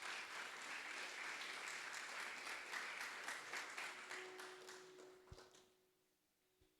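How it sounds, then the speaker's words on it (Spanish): Church congregation applauding during a Sunday morning service, a dense sustained wash of clapping that thins and fades out over the last couple of seconds, leaving a faint tone and a stray tap. "Póngase sobre sus pies y dele un aplauso al Señor en esta mañana."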